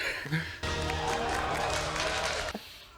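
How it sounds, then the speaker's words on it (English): A burst of applause from a crowd in the film Galaxy Quest breaks out suddenly and holds steady for about two seconds, then cuts off. "They're clapping."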